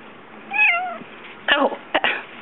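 A house cat gives one drawn-out meow and then two shorter, chirpy vocal bursts, loud and close in a quiet indoor room.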